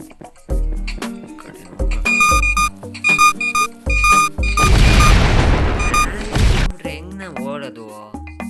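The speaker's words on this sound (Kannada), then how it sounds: "ಇಲ್ಲಿ ಬ್ಲಾಸ್ಟ್ ಆಯ್ತದೆ." Heavy booms and crashing blasts come from the video game Trees Hate You. Several sharp impacts are followed by one long, loud explosion and a fading rumble, with someone speaking between the hits.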